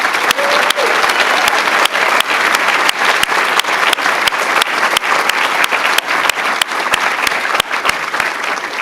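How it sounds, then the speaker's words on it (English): An audience applauds nursing students at a university white coat ceremony: loud, sustained clapping from a large indoor crowd, even and continuous for several seconds with sharp individual claps standing out. "can we just give our students a round of applause"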